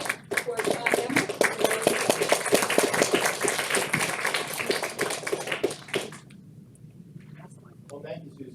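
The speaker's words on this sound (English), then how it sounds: "Please join me with a round of applause for John Emmert." Conference audience applauding a closing speaker at a nonprofit partnerships event, a dense steady clapping for about six seconds that cuts off abruptly, leaving a quiet room with faint voices.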